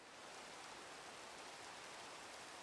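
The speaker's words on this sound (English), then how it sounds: "It's raining." Steady, dense rain falls across a Minecraft world from the ATM 9 modpack, a continuous even hiss with no pauses or other sounds over it.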